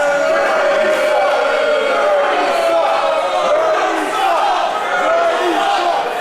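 A wrestling crowd at a Proving Ground Pro event roars and jeers loudly and continuously, a thick wall of shouting voices with no clear gaps.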